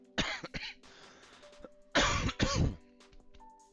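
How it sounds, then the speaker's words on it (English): A man coughs and clears his throat during a Sudoku puzzle-solving session indoors, with two bursts of harsh, close coughing separated by a quiet pause, and no talking. "My sincere apologies for my cough."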